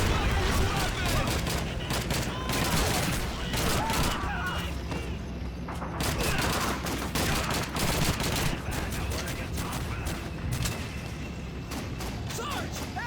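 Dense Call of Duty World War II battle gunfire during a Rhine crossing: rapid rifle and machine-gun bursts crackle continuously over thudding booms, with soldiers shouting in the fight.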